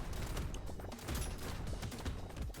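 Rapid bursts of shotgun fire in the Brotato video game, dense overlapping blasts in quick succession at a fairly low level, with no talk over them.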